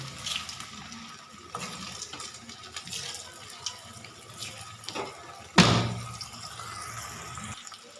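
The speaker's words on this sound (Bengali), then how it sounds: "সিদ্ধ করে রাখা আলুগুলোকে আমি ভেজে নেবো" Crackling hiss of boiled potatoes frying in oil, steady throughout, with a few sharp clatters and one louder burst of sizzle partway through.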